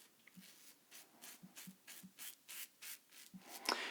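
A Yaqi Ultima adjustable open-comb safety razor scrapes through shaving lather in about a dozen short, rhythmic strokes, close and quiet, with no talking.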